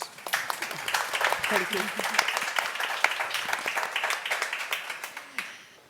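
Audience applause at a presentation on community projects at a Media Lab, a dense patter of many hands clapping steadily throughout, with someone speaking briefly over it.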